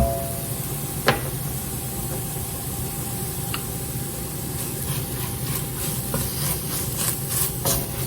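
A wooden spoon stirs flour into a broccoli cauliflower cheese soup in a pot, a steady close scraping hiss running throughout with one sharper knock near the start and faint clicks toward the end.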